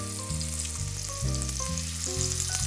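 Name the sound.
meat searing in a hot pan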